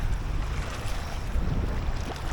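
Rumbling surf and wind wash over the microphone on an Ilocos beach with rocks, a continuous close roar of sea waves with no voices.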